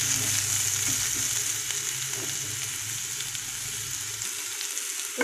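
Pieces of raw jackfruit stir-fried in a pan for a chicken curry, giving an even hissing sizzle with faint stirring scrapes, close and steady, with the low rumble dropping away near the end, no voices.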